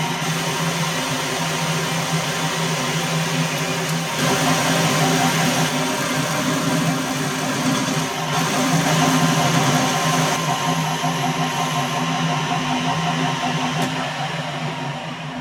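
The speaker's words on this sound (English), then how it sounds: "we'll start machining out the bush" A Victor lathe runs steadily while machining out a bush, giving a continuous mechanical hum with a low motor drone and broadband cutting noise that stays loud throughout, with no talking.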